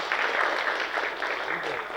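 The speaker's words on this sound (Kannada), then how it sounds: "ಸ್ವಲ್ಪ ಚಪ್ಪಾಳೆ ಕಮ್ಮಿ ಕೇಳಿಸುತ್ತೆ" A modest theatre audience gives thin, scattered applause after the trailer for the Kannada film Bank of Bhagyalakshmi, with light, even clapping that carries on for two seconds.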